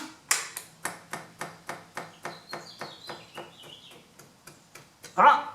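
Scooter fuel pump trying to prime after the ignition is switched on with the fuel line disconnected from the carburetor: a steady series of about fifteen sharp, evenly spaced ticks, close by, then a brief exclamation from a voice.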